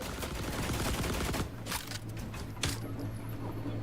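Rapid gunfire in the video game The Last Caretaker, a dense burst of overlapping shots that breaks off into a few scattered louder cracks over a steady background hum.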